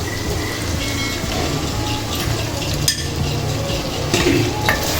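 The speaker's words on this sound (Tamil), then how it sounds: "தக்காளி சேர்த்து நல்லா கிண்டி விட்டுருவோம்" Tomatoes stirred into a pan of frying mutton gravy give a dense, loud, steady sizzle and crackle, with scraping stirs and occasional sharper spatters, heard alone without speech.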